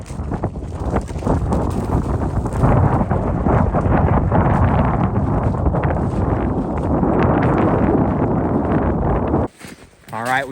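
Strong wind roars steadily across a windswept, snowy trail during freezing rain, buffeting the microphone loudly and continuously before briefly cutting out near the end.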